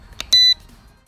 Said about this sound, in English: Notice how the drone is spun 3 times horizontally until you hear a beep.